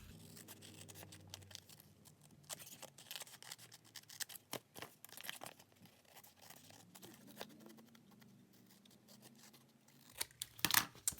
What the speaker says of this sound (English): And then just cut off the excess.